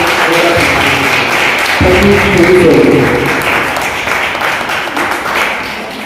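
Audience applause at a college fresher and farewell party, a steady broadband clapping that fills the whole stretch, loud and close, with voices and tonal sounds mixed in partway through.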